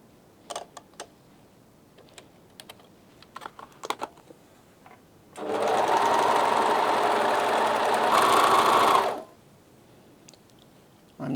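Bernina 1100DA serger sewing a rolled hem with differential feed runs in one steady, loud whirring burst of about four seconds, preceded by scattered small clicks and taps from handling the machine, with no talking.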